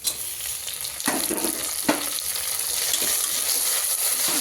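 Chopped onions fry in a pan until reddish-brown for a quick mutton pulao biryani, with a steady sizzle and spatula scrapes at intervals, close and moderately loud.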